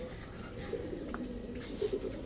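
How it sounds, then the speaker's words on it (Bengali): A single female pigeon with a three-stripe red-geared pattern coos faintly in a loft, with a few soft low bursts toward the end over a quiet background. "একেবারে 3 পট্টি লাল গিয়ারের ঝাঁকগলা একটা মাদি কবুতর"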